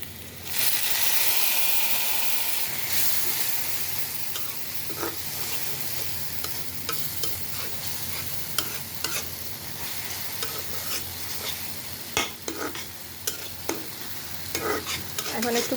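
Spice paste for a pangash fish curry stirred and frying in a pan, with a steady sizzle and hiss running throughout and repeated scraping stir strokes growing sharper toward the end, close and fairly loud with no talk.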